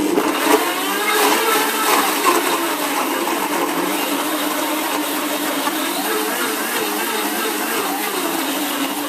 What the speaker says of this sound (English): blend it on medium or high